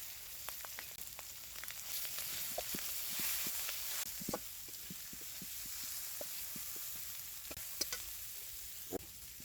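Spices (bay leaves, cumin paste, ginger paste, turmeric, chilies) sizzle quietly in frying oil for lau ghonto, a steady soft hiss with scattered crackles and occasional stirring clicks, close but faint, with no talking.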